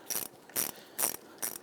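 A ratchet clicking in four quick bursts while backing out 10mm wheel cylinder bolts on a 2000-2006 Toyota Tundra rear brake, close and crisp with short pauses between strokes.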